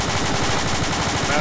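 Rapid, continuous machine gun fire from an aircraft in the air-combat video game Air Superiority, a dense rattling burst that runs loud and steady throughout.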